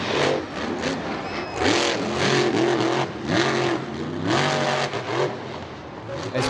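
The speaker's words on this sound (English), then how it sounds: "the drivers have to put the throttle down to clear the 75-foot over-under gap in the ramp-to-ramp jump" A monster truck engine revs hard while clearing the 75-foot over-under gap on a ramp-to-ramp jump at Charlotte Motor Speedway, loud and surging, with announcer talk over it.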